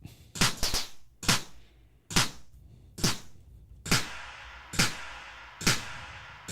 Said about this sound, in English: Put a reverb on that clap.